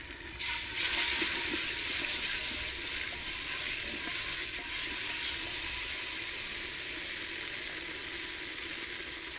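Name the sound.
masala frying and being stirred in a pan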